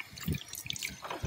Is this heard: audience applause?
no